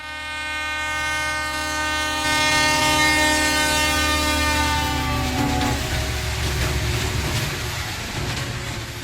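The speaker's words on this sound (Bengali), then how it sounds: "সপ্তাহ দুয়েকের মধ্যেই ঝিমলিকে নিয়ে লখনৌয়ের ট্রেনে উঠে বসল রৌনক" Train sound effect for a story scene, a loud sustained horn blast over the rumble of a moving train, the horn fading and the rolling noise continuing alone.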